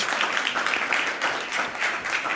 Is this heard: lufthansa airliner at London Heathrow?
no